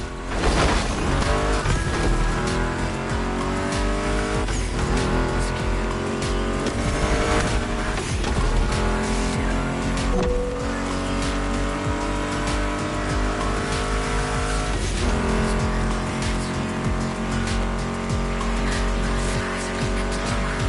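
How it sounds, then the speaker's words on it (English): Muscle car engines roar steadily in The Crew Motorfest racing game, with rising and falling gear sweeps, tire squeals and skids layered over a dense, loud background that continues throughout. "Meshes well with the sound of the engines, you feel me?"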